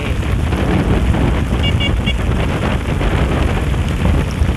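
A dense, steady roar of heavy rain with wind buffeting the microphone, loud and continuous throughout.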